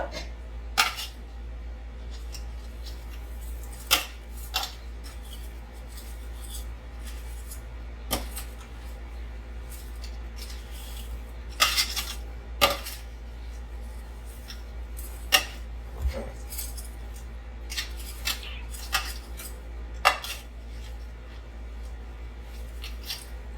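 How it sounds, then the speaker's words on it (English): Half-frozen strawberries being mashed with a potato masher in a pot, giving scattered soft squishing and sharp clicking contacts at irregular intervals over a low steady hum, fairly quiet and close. "I'm going to take my potato masher and mash them down"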